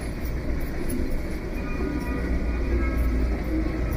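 A Japanese limited express train, the Spacia Kinugawa bound for Kinugawa Onsen, rumbles steadily along the tracks, a dense continuous low roar with faint high whine, heard from inside the carriage.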